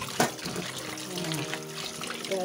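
Tap water runs steadily while raw meat is washed by hand at home, making a close, continuous splashing flow with small trickles and knocks throughout.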